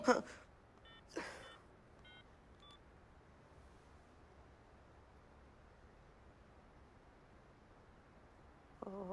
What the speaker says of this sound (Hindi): अपने नंबर से उसको मेरे सामने फोन लगा।